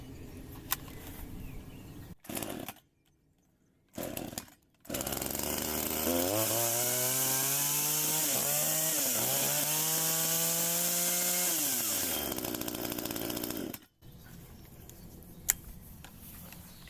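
A cheap 927 model chainsaw cuts through wood, its engine rising to a loud, steady buzzing whine for about seven seconds with pitch dips under load, framed by quieter idle sputters and short gaps before and after.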